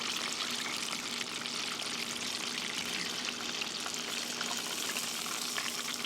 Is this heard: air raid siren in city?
no